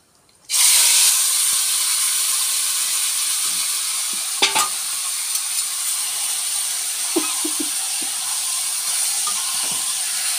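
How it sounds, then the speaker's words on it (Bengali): Lote fish, Bombay duck, dropped into hot oil: a sudden loud hiss erupts after a quiet moment and holds as a steady, dense frying roar, with a couple of faint utensil taps. "তো আমার তেলটা গরম হয়ে গেছে এখন। তো আমি এখন মাছটা এর মধ্যে এখন ছেড়ে দিচ্ছি।"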